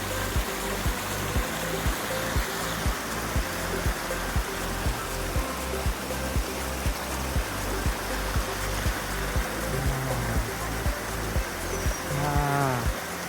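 Clear stream water flowing at a hillside campsite in Puncak, Bogor: a steady, close rushing and splashing babble runs throughout, with no voices.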